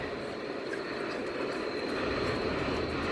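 Steady broadband rumble of aircraft engine noise, loud and continuous throughout, with a faint high whine on top and no talking.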